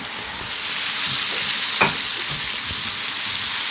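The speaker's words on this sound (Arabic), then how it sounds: "البصل ده المتبل هيتحمر كويس جدا مع الفراخ" Marinated onions frying with chicken in a small pan give a steady, close hiss and sizzle, with a faint stir clink partway through and no voices.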